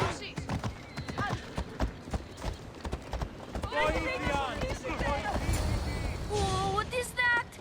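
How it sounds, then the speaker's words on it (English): Hades' horse gallops in Assassin's Creed Odyssey, rapid hoofbeats clattering with a neigh or whinny rising midway and again near the end, mixed with game effects and a voice talking over it. "He's a special horse and belongs to Hades."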